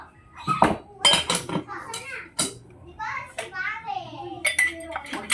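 Dishes and pans being washed at home, with scattered clinks and clatters of pots and utensils mixed among lively children's voices and chatter.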